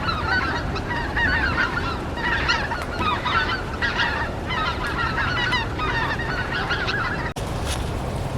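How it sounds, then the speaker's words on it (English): A flock of geese honks continuously and loudly, many overlapping calls in steady bursts close by, with no talking and a brief dropout near the end. "it seems like all the geese are coming back"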